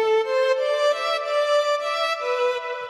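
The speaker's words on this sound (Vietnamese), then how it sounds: "Rồi âm sắc tiếp theo sử dụng đó là tiếng violon." A synthesized violin tone plays a slow legato line of a few long, smooth bowed notes, steady and close with no voices.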